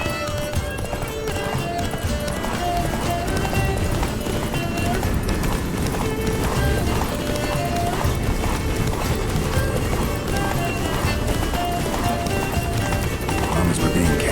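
Roach, Geralt's horse in the video game Witcher 3, gallops with steady, quick hoofbeats that run the whole stretch beneath loud game music.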